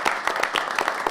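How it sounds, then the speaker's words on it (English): Clapping from an audience at a board of trustees meeting, a short burst of irregular claps, moderately loud and fairly close, with no talking over it. "We can get a round of applause for this work."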